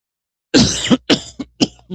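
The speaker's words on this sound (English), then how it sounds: "Didn't mean to cough in y'all's ear." A person coughs several times in a row: one long harsh cough followed by a few shorter, sharp bursts, close and fairly loud with no talking around them.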